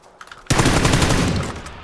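A sudden, loud burst of rapid automatic gunfire erupts in a video game after a quiet moment, hammering close by for over a second before tapering slightly.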